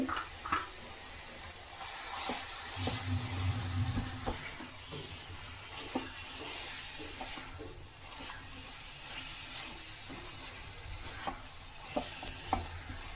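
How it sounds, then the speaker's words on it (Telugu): Jaggery pieces and grated coconut stirred in a pan as the jaggery melts, a steady soft sizzle with scraping strokes and occasional sharp clicks of the spoon throughout. "బెల్లం అంతా కరిగిపోయేదాకా మనం తిప్పుతూనే ఉండాలండి"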